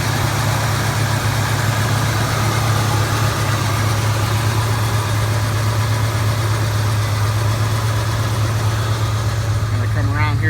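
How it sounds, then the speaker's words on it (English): A freshly rebuilt engine in a 1967 Chevelle SS idles steadily with a deep, even rumble, close and constant throughout, with no talking over it. "take a look at the motor while it's running. Brand new, nice, fresh motor."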